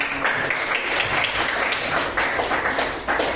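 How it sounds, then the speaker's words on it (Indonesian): A small class of university students claps together after a group presentation. The clapping is dense and close, holding steady for a few seconds, with a brief dip near the end. "Kita berikan tepuk tangan."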